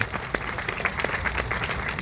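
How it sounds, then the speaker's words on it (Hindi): Fairly faint audience applause at a wellness products gathering, a thin, scattered patter of claps with distinct individual hits over a steady background. "एक बार जोरदार तालियां हो जाए"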